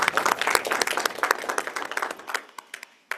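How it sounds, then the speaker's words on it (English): A big round of applause from a seminar audience, dense and steady clapping at first that gradually thins out into scattered individual claps before fading. "And maybe a big round of applause"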